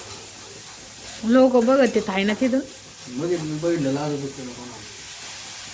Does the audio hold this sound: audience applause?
no